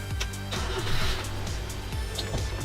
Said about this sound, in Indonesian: Suara mesinnya dahsyat ya.